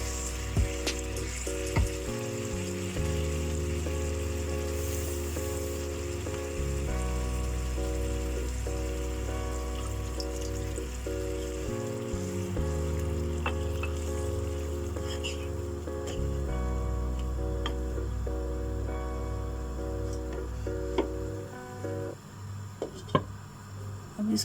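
Chicken and potato curry simmers and sizzles in a pan, a steady bubbling, crackling hiss running throughout while a low, rhythmic hum pulses underneath.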